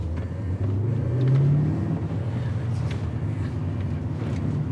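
A BMW E39 M5 engine pulls hard under acceleration, a deep steady rumble from inside the car with a rising tone that swells briefly, then settles into a sustained drone.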